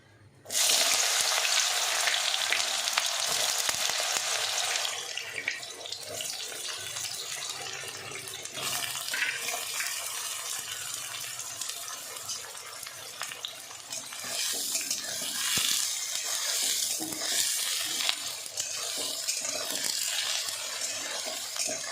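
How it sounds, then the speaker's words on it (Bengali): Eggplant dropped into hot oil bursts into a loud sizzle, then keeps frying with a steady, close crackle and occasional stirring noises throughout. "দেখো তেলটা গরম হয়ে গেছে বেগুনটা ছেড়ে দিচ্ছি"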